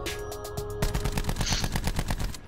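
Rapid automatic gunfire in Call of Duty: Black Ops 4 hardcore team deathmatch, a few spaced shots followed by a dense, continuous burst of loud, close rounds.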